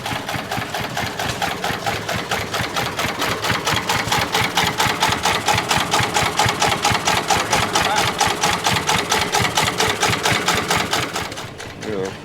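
A small stationary hit-and-miss engine runs at an outdoor classic car show, chugging in a fast, steady rhythm of loud, close pulses that continue for the whole stretch before briefly easing near the end.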